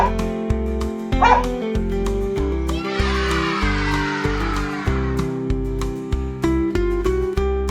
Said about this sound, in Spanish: Número 3. Un perro.